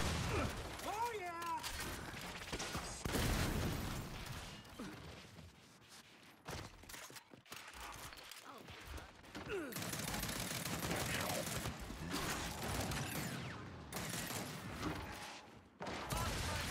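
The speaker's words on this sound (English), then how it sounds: "I do not remember shooting this many pistol shots" Pistol shots crack in a Gears 5 free-for-all match, many sharp bursts scattered across the stretch amid mechanical clatter and game noise, with a voice speaking at points.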